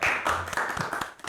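Applause for a junior high school at a school health event, a brief burst of many hands clapping with a voice faintly underneath.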